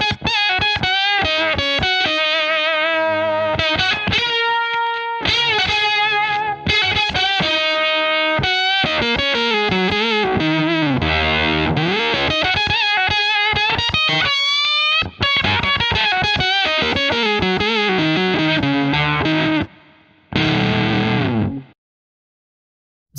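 Electric guitar played through an Octo Puss octave-up fuzz pedal, a dense, buzzing distorted tone with a shimmering upper octave, continuous chords and runs at steady loudness, then a brief stop and a short final burst before silence.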